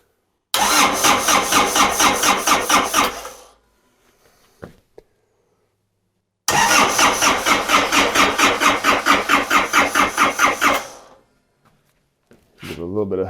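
Yanmar 4TNE98 diesel engine from a Caterpillar 216 skid steer, freshly rebuilt, cranking with a loud rhythmic chugging that runs a few seconds and dies. A second, longer cranking run follows, then a brief voice near the end.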